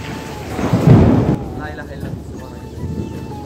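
Loud thunder cracks and rumbles through a rainy thunderstorm near a village pond. The peak comes early and fades into rain hiss, and a faint voice is heard underneath.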